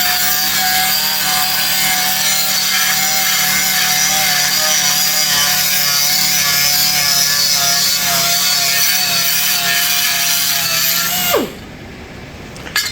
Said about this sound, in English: now we're gonna go ahead and flip it to the other side and grind that side now